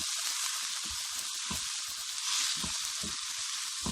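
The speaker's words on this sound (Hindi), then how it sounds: "थोड़ी देर के लिए भूनेंगे।" Chicken frying in a pan, a dense steady hiss of sizzling oil with soft low popping and bubbling underneath, close and continuous throughout.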